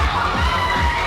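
Riders on a fast fairground ride at the OC Fair scream and cheer together, a loud, dense crowd roar with shrill children's shouts rising and pulsing in rapid waves.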